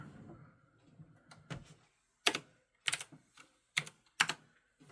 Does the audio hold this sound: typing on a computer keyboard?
yes